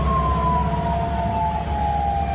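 An ambulance siren on a road in Pathanamthitta wails steadily and loudly through the whole stretch over a heavy low rumble of traffic, with no voices.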